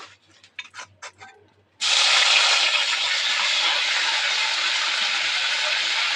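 Ginger-chili paste drops into hot oil for a vegetarian banana-flower dish and bursts into a loud, steady sizzle that holds to the end, after a few soft clinks and faint kitchen sounds.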